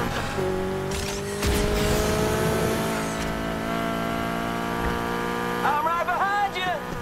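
A car slides and skids in the Need For Speed Heat racing game, with a sustained engine whine rising slowly in pitch, bursts of tire noise and brief squeals near the end, under occasional talk.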